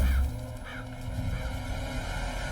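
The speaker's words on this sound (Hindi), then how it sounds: "कौवा भी काव काव करके कुछ कहना चाह रहा है" A crow caws a few times at a moderate distance, harsh calls spaced through a short stretch over low background noise.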